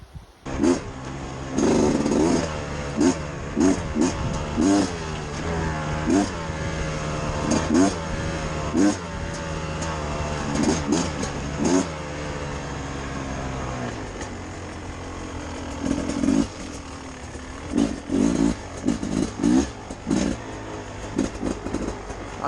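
A 2021 Beta 300 RR two-stroke dirt bike rides on trails, its engine revving up and down loudly and close throughout, with repeated throttle bursts and gear changes and a brief lull midway.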